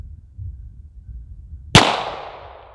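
A single sharp, loud shot from a Springfield 1911 Range Officer pistol firing 9mm rounds at a range, close by, cracking after a quiet moment and then ringing out in a fading echo.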